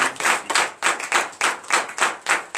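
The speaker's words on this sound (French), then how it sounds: "je vous demande d'applaudir très fort." A congregation at a Saturday morning prayer service in Benin claps loudly in a fast, even rhythm, about eleven sharp hand claps in under three seconds, with no voices over them.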